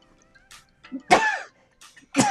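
A short, sharp sneeze burst among small breathy sounds and a second similar burst at the end, close and fairly loud, with no talking.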